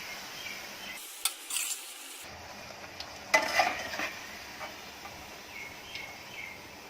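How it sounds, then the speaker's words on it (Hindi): Bhatura deep-frying in hot oil, being turned until golden brown on both sides, a soft quiet sizzle with a few clinks and scrapes of a ladle against the pan, no voices. "दोनों तरफ से अच्छा गोल्डन ब्राउन होने तक इसको फ्राई कर लेंगे।"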